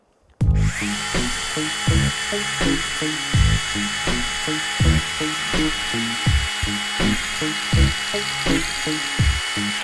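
A nano blade saw cutting through a green 1-inch Douglas fir branch, with a loud, steady high-pitched whine and rhythmic pulsing strokes as the blade bites into the wood, heard up close and alone.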